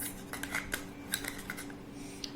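Toy kitchen utensils mix a pretend salad of play lettuce and tomatoes, giving light, sparse plastic clicks and taps at an irregular pace, quiet and close over a faint steady hum.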